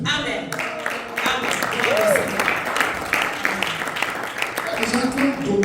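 A church congregation applauds for Jesus, with steady clapping under an amplified preacher's voice and some background music.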